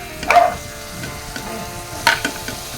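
Ground pork dropped into a hot pan, two sharp bursts of sizzling as it lands, then a low steady frying hiss, with no talk.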